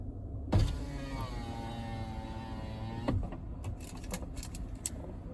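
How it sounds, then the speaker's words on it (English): A car's power window at a Walgreens drive-thru COVID test site hums up for about two and a half seconds and ends in a soft thunk. A few light clicks and knocks follow, up close and with no talking. "we'll have you close your window"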